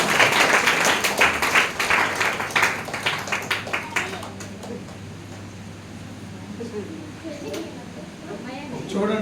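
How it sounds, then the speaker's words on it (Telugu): Congregation at a Telugu Christian gathering clapping together, a loud burst of many hands in the first few seconds that thins out into a quieter murmur with talk. "చప్పట్లు కొట్టండి"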